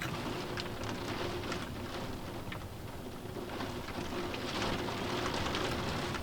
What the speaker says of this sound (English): the rain is absolutely lashing against my windows at the moment